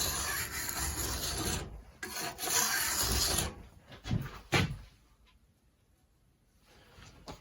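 Flat file rasping along a clamped flat bar, dressing it to keep the rails even: broadband strokes in two long bursts, then shorter scrapes fading to quiet, close and fairly loud.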